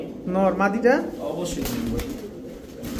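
Pigeons at a bird market, including a male Jabra Pankhi type, give low cooing calls close by while someone talks over them.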